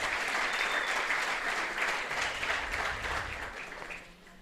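Congregation applauding at a missionary gathering to praise the Lord, a steady dense wash of clapping at moderate distance that fades slightly toward the end.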